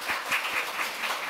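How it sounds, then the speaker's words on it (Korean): Short burst of clapping from a church congregation, a fairly steady patter with no voices over it. "그 하나님께 영광의 박수 올리겠습니다"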